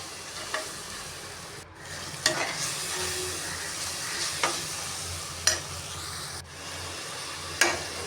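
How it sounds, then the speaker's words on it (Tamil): Ground paste with turmeric powder sizzles steadily in a pan, with a spatula scraping and stirring every second or two over the continuous frying hiss. "கொஞ்சம் மஞ்சள் தூள், அரைச்ச பேஸ்ட் போட்டேன். நல்லா வதக்கி விடுறேன்."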